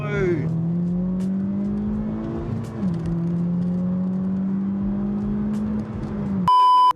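A Honda Civic FK2 Type R accelerates hard from a standstill, its engine note climbing loudly through one quick gear change before a short series of electronic beeps.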